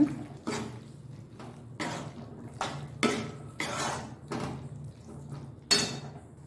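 Spoon scraping and clinking in a pan while stirring mushroom, onion and capsicum kadai gravy, a series of separate sharp scrapes and knocks about every half second, close and fairly quiet.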